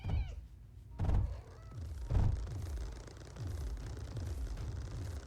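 A nearby cat meows a few times amid soft thumps and low background noise, with no voices.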